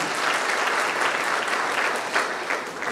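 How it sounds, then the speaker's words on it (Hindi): Crowd applause for a state governor at a public event, a dense, loud, sustained roar of many clapping hands without pauses. "उनके लिए जोरों से ताली हो जाएगा।"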